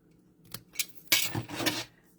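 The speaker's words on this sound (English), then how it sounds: "So I'm just going to grab some snips" Snips cut through scrapbook paper in a few crisp, close snaps, ending in a longer rustling cut.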